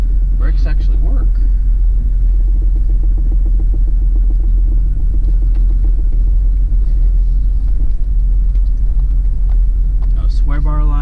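A Jeep XJ on new tires and freshly repaired brakes rolls along a road through a roundabout, its cabin filled with a constant low rumble while someone talks briefly over it.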